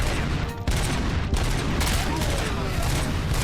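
Video game gunshots crack over a constant din of firing, with a rapid fusillade running loud and steady throughout and a brief dip early on.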